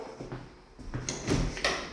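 A heavy sliding barn door rolls along its track with a rumbling roll, ending in a couple of soft bumps, fairly close and quiet.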